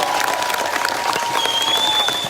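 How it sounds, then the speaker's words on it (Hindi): A crowd at an outdoor strike protest rally breaks into loud applause, a thick continuous clatter of clapping with faint cheering mixed in and a thin whistle-like tone rising partway through. "जोरदार तालियां।"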